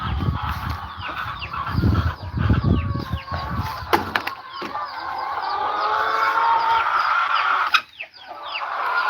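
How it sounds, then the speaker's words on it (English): A flock of chickens on a farm clucks and squawks loudly and continuously, with busy overlapping calls and some honking, close by. "Excuse my loud birds"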